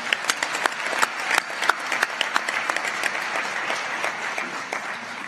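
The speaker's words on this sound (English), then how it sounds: "give them another round of applause." A large crowd applauds a wind symphony at a university investiture ceremony, dense clapping filling the whole stretch at a strong, even level with a few sharper claps standing out.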